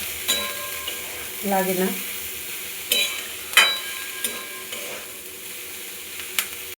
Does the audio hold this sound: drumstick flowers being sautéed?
yes